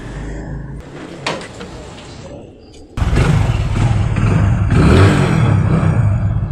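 A motorcycle is ridden with the sound picked up at a helmet chin mount: a few quiet handling knocks and clicks first, then a loud, steady engine and wind roar fills the rest.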